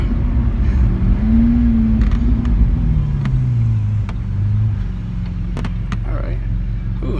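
Ferrari sports car engine humming from inside the cabin while riding on a freeway, a loud steady low drone with a slowly shifting pitch, occasional creaks and clicks over it.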